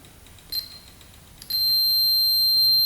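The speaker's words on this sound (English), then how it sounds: "This one should beep right away." A tester checking ATV fuses gives one brief high beep, then a loud, steady high-pitched tone that holds to the end.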